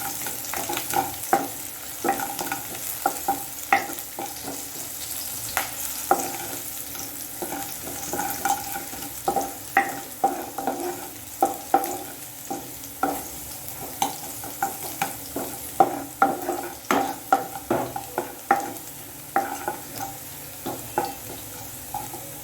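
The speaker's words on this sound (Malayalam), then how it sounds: "വെളുത്തുള്ളിയും പച്ചമുളകും വഴണ്ട് വന്നിട്ടുണ്ട്." Finely chopped garlic and four finely chopped green chillies sauté in a pan, a soft steady sizzle broken by frequent sharp scrapes and taps of a spatula stirring.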